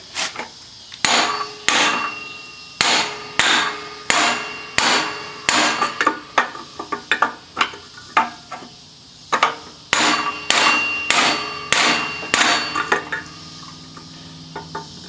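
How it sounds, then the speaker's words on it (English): Repeated sharp metallic hammer blows ring out in an irregular series, loud and close, each strike clanging with a bright metallic ring. "So let me grab a hammer to kind of help it out."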